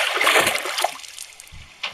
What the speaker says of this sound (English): Sir, did you hear that splash?